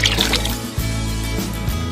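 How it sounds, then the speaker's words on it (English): Red iron glaze pours out of a ceramic cup, a continuous liquid trickle and splash over a low steady hum, close and moderately loud, with no talk. "then I'm going to slowly pour it out, covering the rim as I go"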